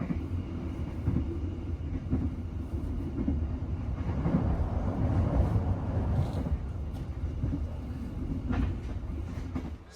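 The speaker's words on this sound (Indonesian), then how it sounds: "Kereta api Kuto Jaya Selatan yang saya naiki kini telah tiba di stasiun Sidareja." The Kutojaya Selatan passenger train pulls into Sidareja station at night, heard from inside the carriage as a low steady rumble with faint rail clatter, swelling slightly midway before easing off.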